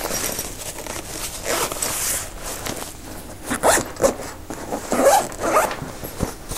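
Velcro dividers ripped open inside a National Geographic Medium camera backpack, several rough tearing bursts in a row, close and fairly loud, with no one talking.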